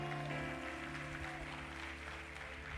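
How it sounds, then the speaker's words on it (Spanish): Congregation applauding during a church worship service, a steady, dense wash of clapping held at an even level throughout, with no talk over it. "Denle un fuerte aplauso a Dios."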